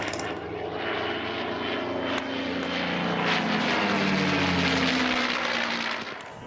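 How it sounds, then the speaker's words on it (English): A P-51 Mustang propeller fighter on the Belgian civil register roars past at an airshow in Pardubice, its engine drone swelling loud and steady with a gradual pitch shift as it passes. "The Mustang he's flying here, Little Rebel, is actually on the Belgian civilian aircraft register"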